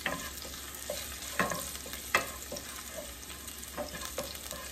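Garlic and mixed vegetables fry in a pan under a continuous soft sizzle, punctuated by repeated clinks and scrapes of a spatula stirring at close range.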